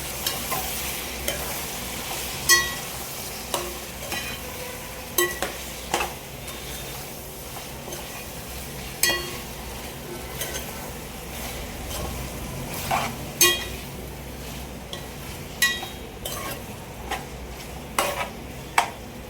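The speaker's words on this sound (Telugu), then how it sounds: "చికెన్ వేసుకున్నాం కదండి, ఒకసారి కలపండి." Chicken curry is stirred in a frying pan, with a soft continuous sizzle underneath and frequent light scrapes and taps of the spoon against the pan. The sound is close and steady, and nobody talks.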